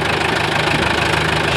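A 1955 International TD6 diesel crawler engine idles with a steady, close, even chugging knock, continuous and alone.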